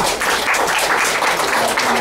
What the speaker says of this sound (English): Let's give time one more round of applause.